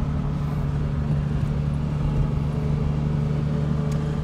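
A Jaguar E-Type drives along, its engine a steady, even drone heard from inside the car over constant road noise, with no speech.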